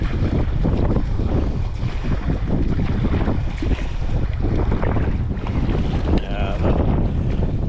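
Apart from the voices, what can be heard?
strong headwind and waves while sea kayaking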